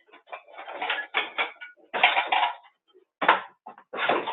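Pancake lifted from a hot pan during a Mexican-style cooking demonstration, with several quick scraping and clinking bursts of a spatula against the pan and short pauses between them, close and fairly loud.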